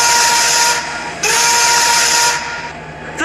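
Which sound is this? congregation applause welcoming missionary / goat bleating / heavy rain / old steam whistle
old steam whistle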